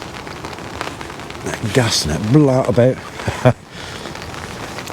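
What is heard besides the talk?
rain falling at a fishing lake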